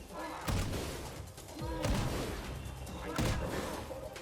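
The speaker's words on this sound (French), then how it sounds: "On va redonner des coups de canon." Cannon blasts in the video game Clair Obscur: Expedition 33: three heavy booming impacts spaced over about four seconds, each a sharp broadband thump trailing into rumbling debris, loud and close against a continuous noisy battle backdrop.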